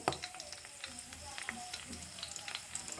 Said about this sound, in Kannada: ಇವಾಗ ಎಣ್ಣೆ ಚೆನ್ನಾಗಿ ಕಾದಿದೆ ಮೊದಲನೇದಾಗಿ ಸಾಸಿವೆ ಕರಿಬೇವು